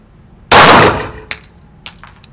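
A Schmeisser Hugo pistol gives one sharp, loud report that rings briefly, then a few faint metallic clicks follow.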